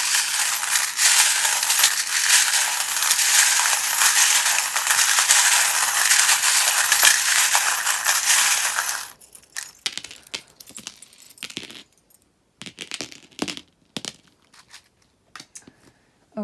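Metal tarot charms drop and clatter onto cards at a reading table, a run of sharp jangling clinks after a burst of loud broadband noise.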